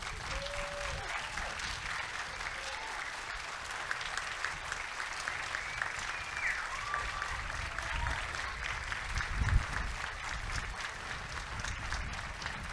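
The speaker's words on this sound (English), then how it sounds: "And can you give an applause to all the Vietnam veterans?" Crowd at a Vietnam War 50th anniversary ceremony aboard the USS Midway Museum applauding veterans, a long, steady roar of clapping with faint scattered voices and whistles mixed in.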